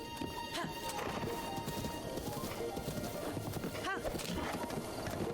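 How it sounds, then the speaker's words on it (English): Horse hooves clip-clopping and a horse neighing in the video game Zelda: Breath of the Wild, steady hoofbeats with whinnies over game music, while people talk throughout. "Oh, you made the horse angry."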